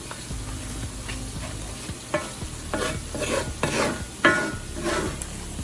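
Steak and onions frying in a pan for smothered steak with onion gravy, a steady close sizzle with repeated stirring scrapes and clatters that swell louder toward the end.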